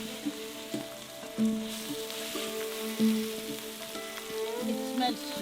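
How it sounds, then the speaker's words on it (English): Lamb butt fat sizzling and crackling in a pan as it renders and melts, a close, fairly quiet bubbling fry with occasional louder pops and tonal hisses, no talking. "So now we are going to cook the fat until it melts"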